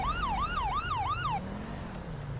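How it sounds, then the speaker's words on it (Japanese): A wailing police siren in the video game GTA5 sweeps up and down four times, then cuts off, leaving a low engine hum that rises slightly. "やっぱりサイレン鳴らしたらバレると思うんだけどね。"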